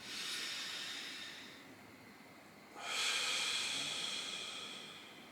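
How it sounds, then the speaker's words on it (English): Two long breaths drawn in through the nose, each a rushing airy hiss that swells and slowly fades, the second louder and closer after a brief pause. "take like a deep breath in"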